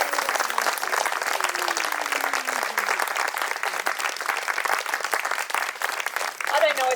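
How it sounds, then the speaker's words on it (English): Wedding guests applaud the newlyweds after their kiss, a steady, moderately loud patter of many hands clapping throughout, with voices and a brief high musical tone faintly mixed underneath. "Would you please give them a warm round of applause?"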